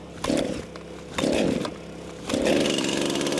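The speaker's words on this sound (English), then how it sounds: "This is a brand new chain on this chainsaw, so let's see how much ripping and riding we can do." A chainsaw fitted with a brand-new chain revs up three times, each burst rising into a loud buzzing whine before dropping back to idle, close and alone.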